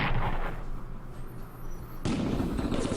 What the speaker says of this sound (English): Defensive artillery again.